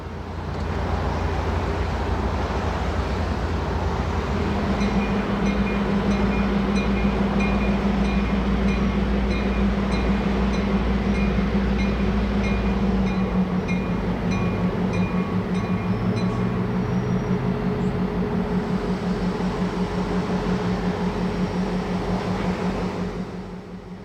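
Freight train NX12 rumbles east along the number 1 main line toward the West Yard switch, a loud, steady mix of engine drone and rolling rail noise with tonal hums and squeals, sustained for the whole stretch before easing slightly at the end.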